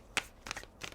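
Tarot cards being shuffled in quick riffling bursts, three short papery flurries close by with brief pauses between, no talking.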